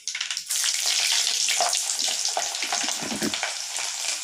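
Garlic drops into hot oil in a clay pot, setting off a sudden loud burst of frying that settles into a steady, close crackling sizzle with a few stirring clicks.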